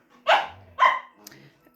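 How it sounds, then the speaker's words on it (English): A dog gives two sharp, loud barks close by in quick succession, followed by a softer trailing sound. "No barking."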